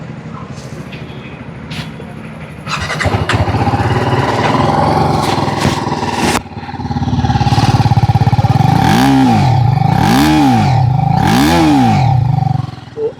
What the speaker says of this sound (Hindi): ऐसा कुछ साउंड इसका आपको देखने को मिल जाएगा एग्जॉस्ट का